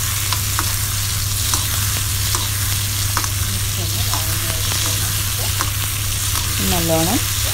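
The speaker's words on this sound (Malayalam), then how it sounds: "നല്ലോണം ചൂടായി എണ്ണയിൽ കിടന്ന് ഒന്ന് വഴന്ന് വരുന്നുണ്ട്." Vegetables sautéing in hot oil in a pan for sambar, a loud, steady sizzle filling the whole clip up close, with occasional stirring scrapes and faint background sounds near the end.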